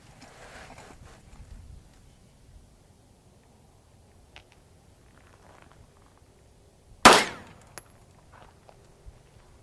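A single loud, sharp 9mm shot from a Sig Sauer P365X Macro pistol, with a ringing clang off a steel brake plate, stands out after quiet outdoor ambience, followed by a faint decaying ring and small rustles.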